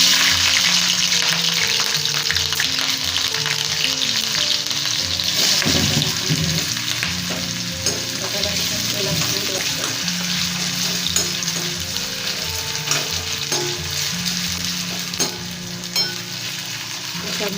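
Green chillies fry in hot oil for sabudana, a loud, steady sizzle running throughout with spatula scrapes and stirring knocks over it and no voices.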